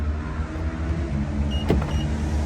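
Keyless-entry unlocking of a 2023 BMW i7 door with flush handles: a single brief click and soft whir at close range over a steady low hum of engine or ambient noise, with no talking.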